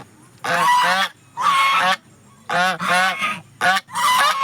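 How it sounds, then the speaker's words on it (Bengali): Several geese in a park, some with goslings nearby, honk loudly in repeated harsh bursts of about half a second each, close by and with no talking over them. "এইখানটায় দেখুন অনেকগুলো রাজহাঁস আছে, তার সঙ্গে কিছু বাচ্চা আছে"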